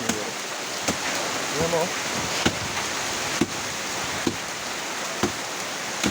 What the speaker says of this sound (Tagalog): Oh, lakas ng ulan talaga